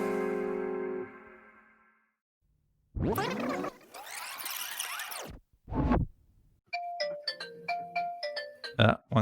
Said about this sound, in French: Qui n'a pas mis son téléphone en veille?